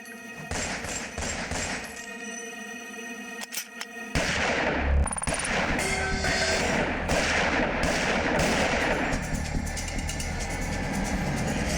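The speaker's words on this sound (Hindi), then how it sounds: "पापा कितना डरावना आदमी है ये सबको गोली मार रहा है।" Rapid bursts of gunfire crackle over a dense, roaring backdrop, with sharp shots repeating steadily after a brief lull near the start.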